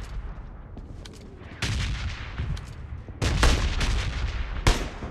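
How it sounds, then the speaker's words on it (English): An incoming missile strike lands in a battle royale shooter, heavy booming blasts and crackling impacts arriving in loud bursts, with two big sudden explosions breaking through the ongoing rumble. "You got incoming missile!"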